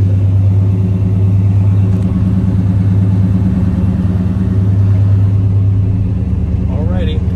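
A Chevy C10 truck's engine idles steadily with a deep, even rumble throughout, close by, with a brief higher whine near the end; a voice talks briefly over it.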